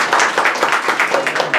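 Students applaud a CBSE Class 12 topper in a steady, loud burst of close clapping that lasts the whole moment.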